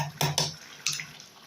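Water is poured into simmering mutton leg gravy with ground coconut paste: two quick splashy bursts and then a third, fairly faint in a quiet kitchen.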